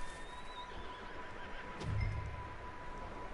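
A horse in the video game Red Dead Redemption II gives a single faint whinny amid quiet outdoor ambience, with a soft hoof shuffle.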